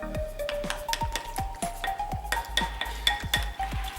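Honey, salt and brown sugar being stirred into BBQ meatloaf ingredients in a bowl, a series of close, wet squishing strokes with light clinks of a utensil against the dish, no talking.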